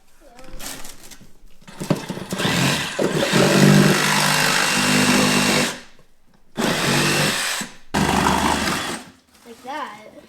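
A Milwaukee power tool cutting a workpiece buzzes loudly in several bursts separated by brief pauses, with people talking over and between the runs.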